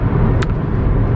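Steady low road rumble of a car in motion, with a brief higher whoosh partway through; continuous and fairly loud, with no talking.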